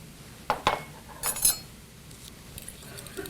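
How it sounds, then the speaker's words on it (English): Soy sauce and olive oil being whisked together, a few quick clinks of a utensil against a bowl in a short cluster, then quieter light taps, faint and close. "And I'm whisking that together"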